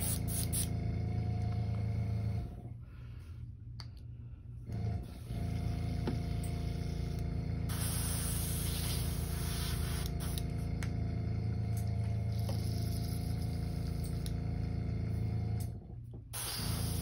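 An airbrush being cleaned out while painting a custom Mega Shad crankbait gives a steady, sustained spray hiss with a low compressor hum beneath, broken by two short pauses near the start and one near the end.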